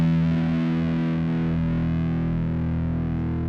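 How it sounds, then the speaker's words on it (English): A sustained bass note through an octave-up pedal blended with the dry signal rings out, thick and slightly buzzy, with a higher octave shimmer layered over the low fundamental, slowly decaying. "I've got the octave up on, but instead of splitting the signal, I'm just dialing in the dry sound."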